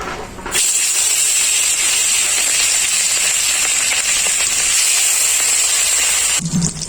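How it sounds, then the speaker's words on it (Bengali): Fish sizzling and frying in hot mustard oil in a kadai, a loud steady hiss that starts abruptly and holds evenly before cutting off near the end. "তেল খুব ভালোভাবে গরম হয়ে গেছে মাছগুলো ভেজে নেবে"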